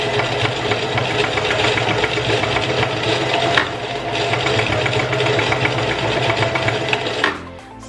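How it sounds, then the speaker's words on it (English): A sewing machine stitches fabric while assembling a hair frontal unit, running in a steady fast whir of needle strokes, then reversing to back stitch before stopping near the end; no talk. "So I back stitch about 3 or 4 times."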